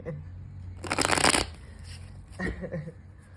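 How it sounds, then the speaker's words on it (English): A deck of cards is shuffled close up, giving two quick papery riffle bursts, the first longer and louder and the second shorter, with a faint low hum underneath. "I'm going to do the shuffle back here"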